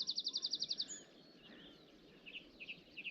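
Birds along the Wick River path in Caithness, Scotland, on a sunny morning: a quick run of sharp repeated chirps, then scattered fainter calls, fairly close over a soft outdoor background.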